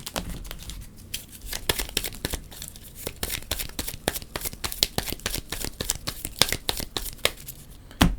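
Rapid, crisp riffling of a deck of Marvel Legendary game cards, a dense run of sharp paper flutters repeating close by with no talking.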